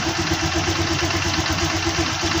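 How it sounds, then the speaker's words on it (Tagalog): A new Honda Click 125i scooter engine idles steadily and roughly throughout, a low rhythmic chug under a noisy, rattly mechanical hiss, close and constant. "maingay siya kasi ang motor na to ay bago"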